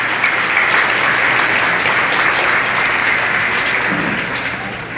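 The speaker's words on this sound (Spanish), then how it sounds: "Les pido un aplauso para ellos." Sustained, loud audience applause fills a school end-of-course ceremony for DIF childcare centers in Tihuatlán, a dense, even wash of clapping that holds steady for about five seconds and eases slightly at the end.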